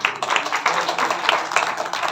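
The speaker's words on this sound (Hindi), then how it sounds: "जोरदार तालियां।" Loud clapping from a crowd at a town peace committee gathering, a dense close burst of many hands filling the whole short stretch without pause.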